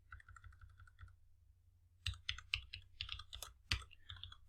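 Typing on a computer keyboard: a short burst of soft clicks, a pause, then a quicker run of sharper, close key presses, quiet and alone.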